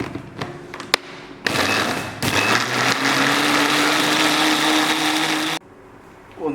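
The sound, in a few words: blender grinding soup spices with a little water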